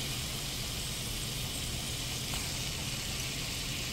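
Shrimp and sausages sauté in a hot skillet for rasta pasta, giving a steady, dense sizzle that hisses evenly throughout with no voices.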